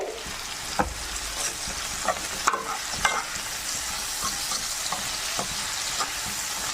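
Bitter gourd sautéing in a pan with half a teaspoon of salt: a constant, moderate sizzle with a spoon knocking and scraping the pan now and then, some strokes sharper and louder, and no one speaking.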